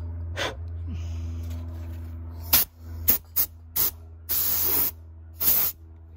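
Spray paint hissing from an aerosol can onto a Chrysler PT Cruiser headlight, several short bursts and one longer blast in an irregular rhythm, loud and close with a low hum between sprays.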